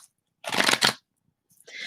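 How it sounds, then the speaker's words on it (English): A deck of tarot reading cards being shuffled, heard as two short riffling bursts close by, separated by a brief pause. "Let me shuffle your cards and get right into it."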